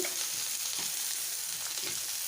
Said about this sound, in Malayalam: ചെറുതായി അരിഞ്ഞ് വെച്ച് സവാള ചേർത്ത് കൊടുക്കുന്നുണ്ട്